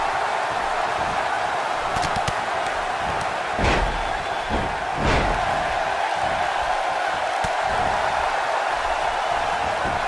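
An arena crowd in the WWE 2K18 wrestling game keeps up a steady roar of cheering, with a few heavy thuds and slams of in-ring impacts heard over it.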